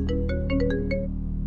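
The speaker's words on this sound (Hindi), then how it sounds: "फोन आ रहा है तेरी लव का, उठा लूं?" A mobile phone ringtone plays alone, a short series of bright repeated melodic tones over a steady low hum, close and fairly loud, in a romantic South Indian action film dubbed into Hindi.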